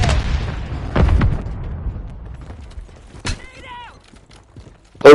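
Mortar strike explosions in the shooter game Warzone: several loud booming blasts with long rumbling decay, spaced a few seconds apart, mixed with faint mechanical clatter.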